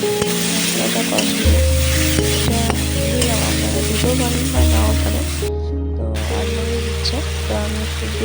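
Spice masala with cloves fries in a pan, a loud, close sizzle with scraping stir strokes, while a steady background music bed plays underneath.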